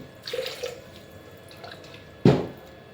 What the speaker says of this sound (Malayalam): ഇതിൻ്റെ അകത്ത് കുറച്ച് വെള്ളം ഒഴിക്കണേ